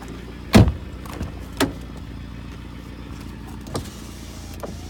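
Electric seat recliner motor in a 1994 Ford Granada 2.0 petrol automatic, heard as a few short whirring bursts inside the car, the first loudest, with quieter brief pulses following over a steady low cabin hum.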